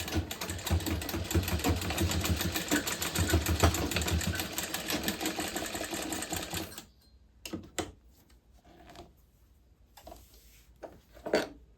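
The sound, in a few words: sewing machine stitching fabric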